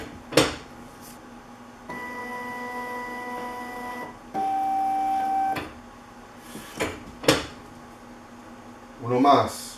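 A Powis Parker Fastback 15XS document binder runs through a cycle with steady mechanical hums and tonal whirs, broken by a few sharp clicks and a clattering thump near the end.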